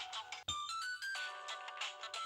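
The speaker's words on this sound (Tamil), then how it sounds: "எங்க இருந்து ஃபோன் அடிக்கிற சத்தம் வருது?" A mobile phone ringtone plays nearby, a melodic electronic tune of repeating bright tones that runs steadily throughout, fairly quiet, with no one speaking over it.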